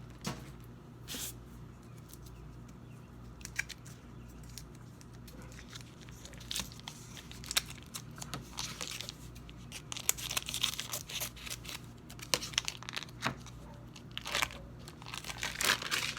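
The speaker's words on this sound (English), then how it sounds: "packages of cream cheese. And just cut it open." Cream cheese packages are cut open and peeled, giving close crinkling, tearing and crackling foil-wrapper sounds in irregular bursts, with no talking.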